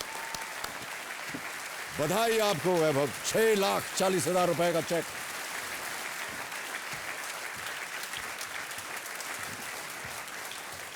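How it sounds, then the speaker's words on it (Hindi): A studio audience at the Kaun Banega Crorepati season 7 quiz show gives a steady wash of applause throughout. Someone speaks over the middle stretch, and the clapping continues softly once he stops. "तालियां बजती रहे देवी और सज्जनों।"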